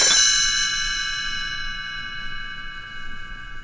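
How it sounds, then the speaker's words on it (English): A small cluster of light bells rings once as a page-turn chime for a Disney read-along of Goldilocks and the Three Bears. The bright, shimmering strike sounds close and clear, then fades slowly on its own. "You will know it is time to turn the page when Tinkerbell rings her little bells like this."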